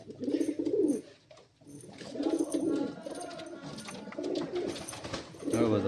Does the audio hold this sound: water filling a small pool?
no